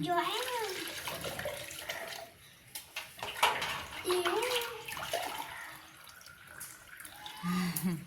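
Tap water runs and splashes steadily in the background while an adult and someone talk over it.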